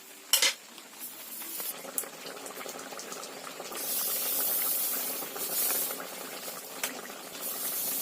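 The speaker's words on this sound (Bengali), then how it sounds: "এবার মাছটাকে খুন্তি দিয়ে একটু নাড়িয়ে দিচ্ছি এভাবে যাতে মাছটা ভেতর পর্যন্ত চলে যেতে পারে" Fish curry with bottle gourd simmering in a pan, bubbling and hissing steadily while a metal spatula scrapes and clinks against the pan, close and moderately loud with no talk.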